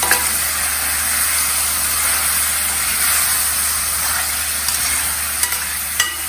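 Spiced potato masala fries in a pan while being mixed, a loud, steady hissing sizzle close up with a few faint scrapes and clicks of stirring, continuous and without speech.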